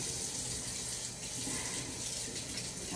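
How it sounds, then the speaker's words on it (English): Running tap water rinsing glass canning jars at a kitchen sink, a steady, fairly close hiss of flowing and splashing water with no pauses and no one talking. "And now I'm just going to wash them off again."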